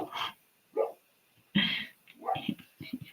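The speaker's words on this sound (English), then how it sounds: "If you can hear my dog, he wants to jog with her." A pet dog barks in short bursts near a suburban road, four or five sharp yaps separated by pauses, fairly close and moderately loud with no talking over it.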